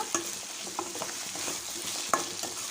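Vegetable pulao with corn is stirred in a hot pan, giving a steady low sizzle broken by a few distinct spoon-on-pan knocks and scrapes, with no speech.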